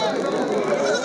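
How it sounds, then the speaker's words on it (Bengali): A goat bleats at a rural goat market in Kaitla, among mother goats and kids. The bleat is a loud, wavering, sustained call filling the whole moment, with talk and market chatter mixed in close by. "এপাশে আমরা একটি মা ছাগল দেখতে পাচ্ছি এবং পাটির বাচ্চা দেখতে পাচ্ছি।"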